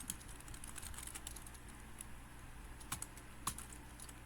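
Quiet, rapid keystrokes on a computer keyboard while entering Python code in IDLE, with a few harder key taps toward the end.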